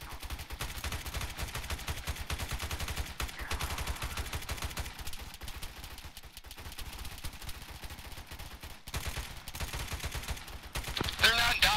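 Gunfire in a military video game: a steady, dense roar of overlapping shots with no let-up for the whole stretch, heavy and continuous with brief sharp cracks standing out.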